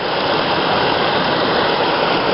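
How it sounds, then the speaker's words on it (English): A small river waterfall, formed where fallen trees have piled up across the channel, pours with a loud, steady, close rushing roar that holds unchanged throughout. "It seems to be a little waterfall made up over time of, I guess, trees coming down the river."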